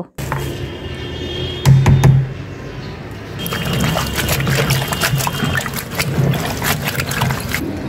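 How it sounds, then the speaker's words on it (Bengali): Chopped banana blossom is rinsed in a bowl of water, giving splashing, sloshing and dribbling sounds with a few sharper knocks of the bowl, fairly close and steady throughout. "কলার মোচাটা সুন্দর করে কেটে নিয়েছি, এখন ভালোভাবে ধুয়ে নেব।"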